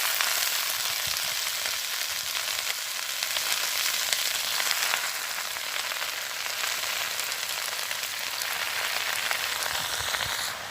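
Leafy greens frying in hot oil with whole cumin seeds in a village kitchen, a loud, steady hiss like heavy rain that continues without a break.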